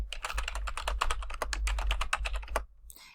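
Rapid, steady keystrokes clatter on a computer keyboard as month names are typed, a dense run of close clicks that stops abruptly near the end.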